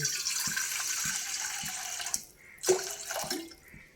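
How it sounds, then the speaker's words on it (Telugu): Water pours into a pan set on a lit stove, a steady splashing stream that breaks off partway, then a few shorter pours and splashes follow, close and fairly quiet. "వాటర్ వేసుకుందాం"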